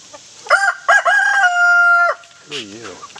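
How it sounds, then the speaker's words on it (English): A stray backyard chicken clucks and crows loudly close by, with a drawn-out call followed by a few shorter, wavering clucks. "Looks like one chicken didn't get put away."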